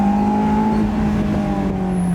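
Naturally aspirated Honda S2000 engine revving toward its high redline, a steady loud sustained engine tone held close up for a couple of seconds with no talk.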